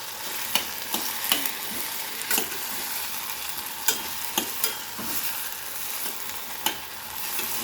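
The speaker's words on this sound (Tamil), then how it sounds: "சுண்டைக்காய் வதங்கின்னு இருக்கு." Turkey berries sautéing in sesame oil over a low flame: a steady close sizzle with repeated sharp scraping clicks as the pan is stirred, no voices.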